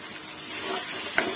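Tomato and coriander stirred and fried with potatoes and onion paste for a dry shrimp-potato bhaji, a short close burst of sizzling with soft stirring and one brief spoon knock.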